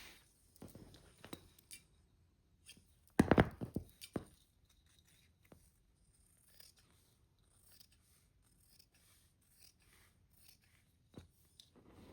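Scissors cutting fabric for a gift bag, with sparse, quiet snips spread over a hushed room and one louder cluster of cuts partway through.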